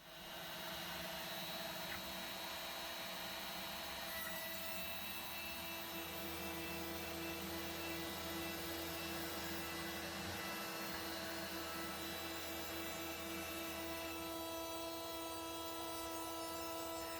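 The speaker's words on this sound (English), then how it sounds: "install the bottom cleaning bit into the DeWalt router and get a top layer taken off all of this to get it perfectly flat" A DeWalt router fitted with a bottom cleaning bit on a Sainsmart Genmitsu PROVerXL 6060 CNC machine surfaces a spoilboard flat, a steady high-pitched whine with continuous cutting noise throughout, no talk.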